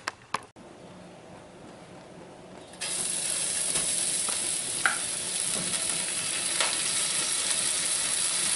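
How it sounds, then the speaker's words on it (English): Quinoa toasting in olive oil in a pan, a steady broadband sizzle that jumps louder after a few seconds and carries on evenly, with occasional small clicks and stirring scrapes up close. "I'm going to put some oil in the pan here, olive oil, and I'm going to toast the quinoa."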